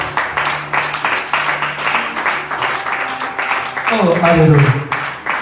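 Church congregation applauding at a morning service, steady rhythmic clapping from many hands throughout, with a voice speaking and crying out over it and a swell of cheering near the end.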